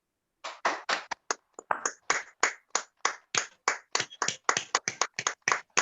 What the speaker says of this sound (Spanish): vamos a devolverle con ese fuerte aplauso que necesita el compañero Aldo David